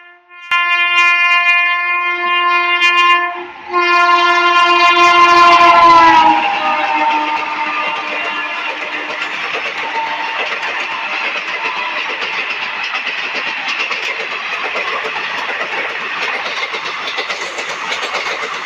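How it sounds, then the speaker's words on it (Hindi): A train moves past a station platform, opening with a loud sustained horn blast, then a steady rumble and clatter of wheels on rails that continues evenly as the cars roll by, with no talk. "ये देखिए ट्रेन जा रही है"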